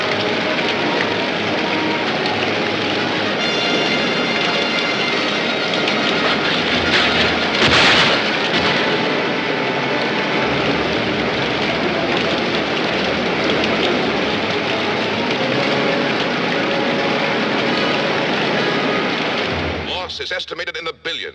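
A typhoon's heavy downpour and high winds roar as a loud, unbroken wash of rain and gusts, steady throughout with a brief louder surge midway, cutting off abruptly at the very end.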